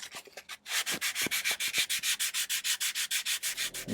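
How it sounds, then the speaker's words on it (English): Rapid, rhythmic back-and-forth sandpaper strokes rasp close by, about six per second, rounding the edges of a cylindrical model saguaro cactus, after a few faint handling taps at the start. "I'll just use some sandpaper to further round the edges off."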